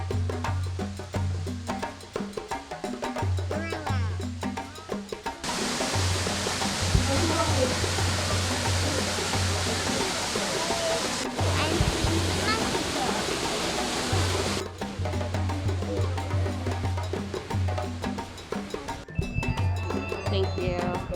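A waterfall at Animal Kingdom rushes as a steady broadband roar that swells loud for several seconds in the middle, with people talking nearby before and after.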